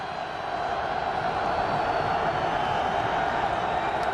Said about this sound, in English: Crowd trying to get back in it,